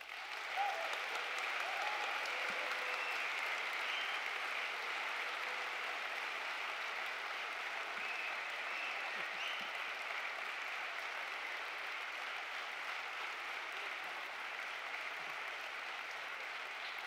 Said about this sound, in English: I would like to ask again for a strong applause for our team.